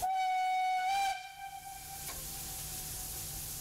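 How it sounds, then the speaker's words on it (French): A steam locomotive on the Val de Travers line gives a sustained tonal whistle that cuts off after about a second, leaving a steady hiss of steam from lifted safety valves that carries on alone. "Les soupapes s'étant soulevées, la machine sifflotant gentiment"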